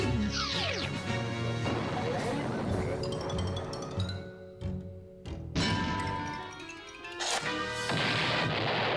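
Cartoon bombs blow up in a chase between Wile E. Coyote and Tom Cat, loud crashes and booms mixed with clinking, whistling effects and a busy score, a brief lull near the middle before more blasts.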